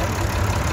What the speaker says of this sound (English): Guy is in a slightly newer model of the 35, which is a 3-cylinder 35.